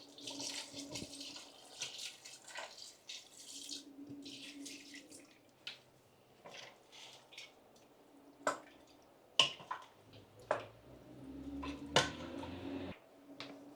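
Fresh water runs and splashes into a cooking pot, with a steady trickle broken by a few sharp clinks and drips.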